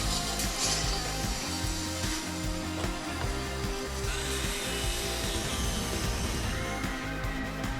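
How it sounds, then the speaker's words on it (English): Power tools grind and whine without a break on a lakeside deck-and-pergola job site while a worker cuts rebar, with loud continuous mechanical noise and clanking rhythms throughout and no voices. "He's over there cutting rebar right now."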